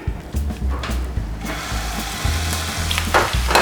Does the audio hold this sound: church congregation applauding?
no